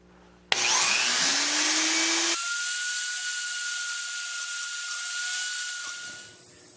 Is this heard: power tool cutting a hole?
yes